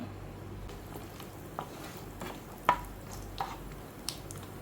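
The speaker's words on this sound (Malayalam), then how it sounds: "ഇതിലേക്ക് ഞാൻ നമ്മുടെ നട്ട്സ് ഉണ്ടല്ലോ അത് ആദ്യം ഇട്ട് കൊടുക്കുകയാണ്" Nuts frying in hot sunflower oil in a pan for masala cornflakes upma: a soft, steady low sizzle with a few faint clicks and taps of stirring, with no talking.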